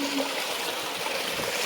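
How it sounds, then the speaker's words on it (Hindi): Water in a village pond trickles and splashes steadily, a close, continuous wash of watery noise with no voices. "तरिया पानी संगवारी तरिया में पानी है"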